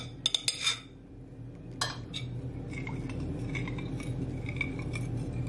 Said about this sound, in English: And you want to give it a stir.